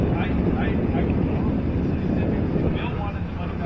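An FMS 1700mm Tigercat radio-controlled model plane comes in to land, a steady broadband motor and wind roar running evenly throughout at moderate level with no clear change.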